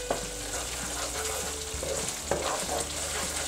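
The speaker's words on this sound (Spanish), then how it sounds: "Seguiremos friendo todo." Tomato pizza sauce fries in a pan with steady hiss and crackle, plus occasional scrapes and knocks of stirring, close and continuous without talk.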